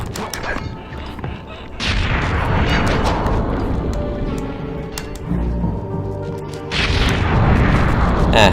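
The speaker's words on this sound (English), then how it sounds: "this one has the biggest explosion of them all" Explosions in the Sly 2: Band of Thieves video game boom in heavy, crashing bursts, with a dense barrage of blasts and rumbling debris that swells again near the end.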